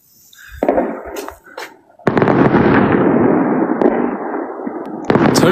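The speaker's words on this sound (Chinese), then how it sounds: "看，我为你们放准备的烟花。" New Year fireworks burst close by, first a few sharp pops and crackles, then a long dense roaring crackle of a firework display, with a fresh burst at the end.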